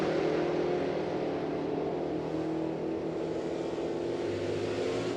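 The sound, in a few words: Oldsmobile and Dodge Challenger drag racing cars launching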